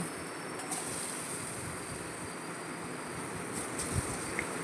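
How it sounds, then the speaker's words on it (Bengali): Boiled spiny gourd rubbed with salt and turmeric fries in hot oil left from frying jackfruit seeds, giving a steady, hissing sizzle with faint crackles throughout. "এই তেলের মধ্যে আমি সেদ্ধ করা কাঁকরোলগুলো একটু নুন হলুদ মাখিয়ে ভেজে নেব"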